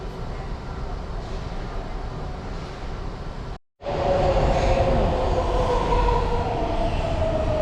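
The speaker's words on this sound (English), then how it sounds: "That's the eastbound train." An eastbound rail transit train in Atlanta roars by up close, a steady rushing rumble with wheel noise, briefly cut off by a sudden gap before returning louder with faint squealing.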